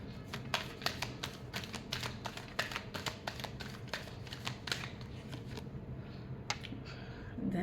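Tarot cards are shuffled by hand up close, a quiet run of quick papery riffles and taps that thins out toward the end, with no talking.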